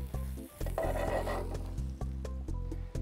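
Onion sizzles as it drops into melted cocoa butter in a hot pan, a steady close frying hiss with stirring clinks and scrapes, no talking over it.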